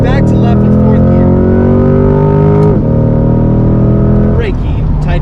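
A Corvette C8 accelerates hard in 4th gear on the Spring Mountain race track. Its loud, close engine note climbs steadily, dips sharply once around midway, then falls away near the end, with a voice talking over it.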